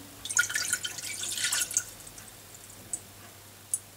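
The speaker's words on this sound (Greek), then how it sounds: "Θα ρίξουμε το νερό μέσα σε μια κατσαρόλα" Water is poured into a saucepan in a home kitchen, giving a light, splashy trickle near the start that dies away into a few isolated drips heard close up in a quiet room.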